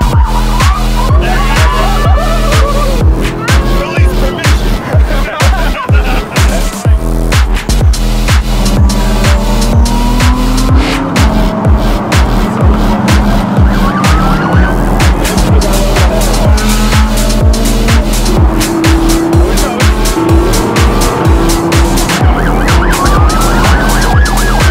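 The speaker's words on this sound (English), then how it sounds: "Cars are taking off." Rally cars launch from a start line one after another, loud engines revving and roaring away in a dense, continuous blast of motor noise with rising pitch sweeps as each car accelerates off.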